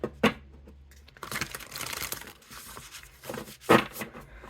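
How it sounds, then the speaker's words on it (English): Tarot cards are shuffled by hand, giving two sharp papery riffles near the start and end with softer, steady card rustling between them. "They feel alright shuffling like that."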